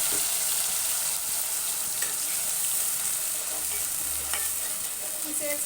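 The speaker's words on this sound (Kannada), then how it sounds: "ಈಗ ಶುಂಠಿ ಬೆಳ್ಳುಳ್ಳಿ ಈರುಳ್ಳಿ ರುಬ್ಬಿರೋದನ್ನು ಇದಕ್ಕೆ ಸೇರಿಸ್ತಿದ್ದೀನಿ." Ground ginger, garlic and onion paste frying in a few spoons of hot oil for mutton keema, a steady close sizzle with stirring scrapes throughout, no voices.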